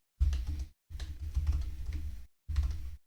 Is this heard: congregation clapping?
no